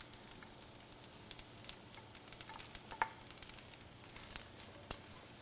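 An egg cooking in a hot pan while pineapple fried rice is stirred and fried, giving a quiet, steady sizzle with scattered scraping and clinking from stirring and a few sharper taps.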